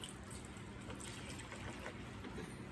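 Distilled water pours steadily into a container while making hot process honey and goat milk soap, a soft continuous gush and trickle with no talking.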